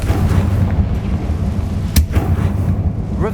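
A Confringo fire spell blast from Hogwarts Legacy gives one sharp, loud burst over constant game music and ambience, and a fainter whooshing sweep follows near the end.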